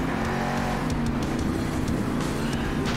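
Monster truck engines roar continuously in the Monster Jam Steel Titans 2 video game, a dense, loud, steady growl with slight surges as another truck follows closely behind.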